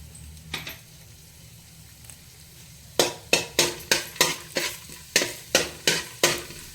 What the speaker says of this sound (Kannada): ಈಗ ಸ್ವಲ್ಪ ಕಡಲೆಬೇಳೆನ ಹಾಕೊಳ್ಳೋಣ.